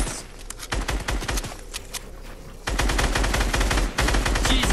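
Rapid automatic gunfire rattles in a video game, dense bursts of close shots that pause briefly and then resume even louder and more continuous.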